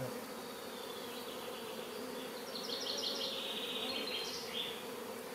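A honeybee buzzes steadily near a beehive during swarm preparation, a continuous close hum that swells and wavers as the insect moves about, with no voices.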